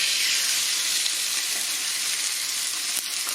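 A côte de bœuf rib steak is laid into a hot pan and sizzles loudly and evenly, a dense close hiss that holds steady with no voices.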